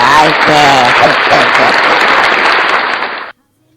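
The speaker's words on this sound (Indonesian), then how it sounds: "Sebelum lanjut kita kasih tepuk tangan dulu." Students give a brief round of applause during a fifth-grade computer lesson, a loud, close burst of clapping over a voice at the start, lasting about three seconds before cutting off sharply into silence.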